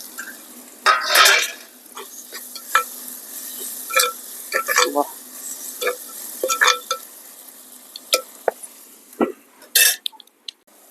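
Tomatoes hit a hot frying pan for a dry fish and taro root curry and are stirred, with scattered sizzling bursts and scraping clatters of a utensil against the pan, close and moderately loud.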